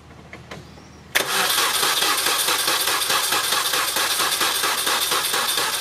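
A car engine cranks over with the spark disabled during a wireless compression test, a steady rhythmic chugging of the starter that kicks in abruptly after a quiet moment and runs on, close and loud.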